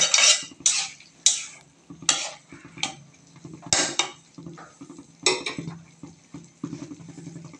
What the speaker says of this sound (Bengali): আলুগুলো চিকন চিকন করে কেটে নিচ্ছে, একটু সুন্দর করে নাড়াচাড়া করে নিচ্ছে।